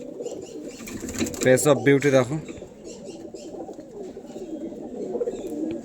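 Kalanka pigeons coo steadily in a home loft while a brief burst of wing flapping breaks out near the start; someone speaks briefly over the birds.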